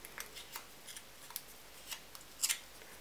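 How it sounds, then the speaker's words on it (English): Scissors cut out the middle of paper puzzle pieces in a craft project, giving a handful of soft, close snips spaced irregularly, with a slightly sharper pair of snips near the end, in a quiet room. "And then I just cut out the middle of those pieces."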